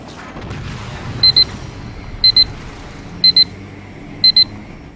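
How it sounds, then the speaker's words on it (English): An alarm sounds in the Halo 5: Guardians video game, four evenly spaced double beeps, one pair about every second, loud and high against a low rumbling game backdrop. "You heard the alarm go off."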